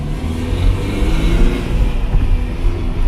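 A Ferrari sports car engine revs nearby, a steady mid-pitched growl that swells and eases over a few seconds with no voices over it.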